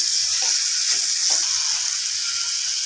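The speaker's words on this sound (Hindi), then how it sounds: "कद्दूकस किया हुआ गाजर मैं घी में डालकर अच्छे से फ्राई कर लूँगी 2 मिनट के लिए" Grated carrot fries in hot ghee in a pan, giving a continuous bright sizzle with a couple of soft stirring knocks early on, close and steady, with no talking.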